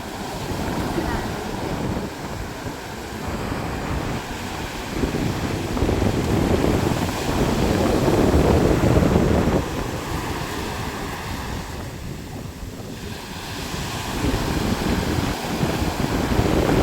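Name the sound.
sea waves on the beach with wind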